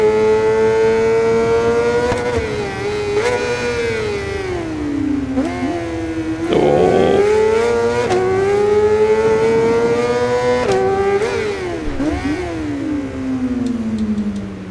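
A 2009 Honda CBR600RR S696 engine whines at Brands Hatch Indy in the RIDE 5 racing game, its loud tonal note falling under aggressive engine braking and rising again across several shifts.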